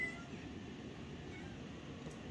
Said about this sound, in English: Cat just running that mouth in the background.